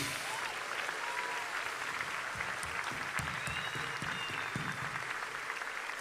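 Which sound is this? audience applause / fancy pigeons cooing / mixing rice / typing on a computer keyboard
audience applause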